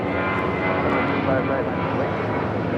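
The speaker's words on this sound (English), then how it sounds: "This is Spirit Airlines 2368 taking off to Detroit on an A320." A Spirit Airlines Airbus A320 taking off from LAX toward Detroit, a loud, dense, sustained jet engine roar with a radio voice speaking over it.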